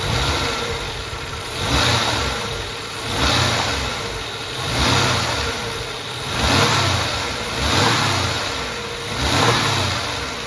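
A Ford AU Falcon engine, after hydraulic lifter work, is revved six times in a regular rhythm, each swell rising and falling back toward a steady idle, close by.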